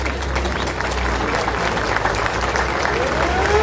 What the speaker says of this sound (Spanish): que así recibe el aplauso de su gente